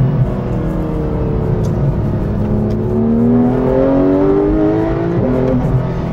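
A Porsche 911 GT3 (991.1) with its 475-horsepower rear-mounted engine accelerates hard, the engine note climbing steadily in pitch through a sustained, loud, close run with no voices.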